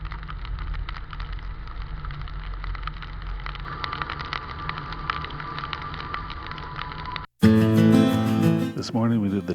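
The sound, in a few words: heavy rain during a drive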